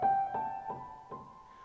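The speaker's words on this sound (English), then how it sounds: "The Lydian scale has a raised 4th degree, which sounds something like this." Ascending Lydian scale with its raised fourth, played as a sequence of clear, sustained notes one after another at a moderate, even pace, close and alone with no talking.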